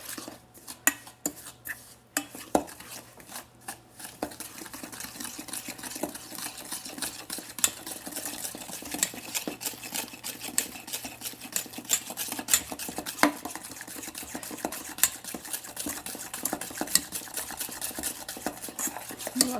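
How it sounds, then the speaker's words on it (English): A spoon stirs brownie mixture in a bowl, with steady scraping and clinking against the sides continuing for about twenty seconds, close and fairly loud, with no talking. "And I'll stir this together."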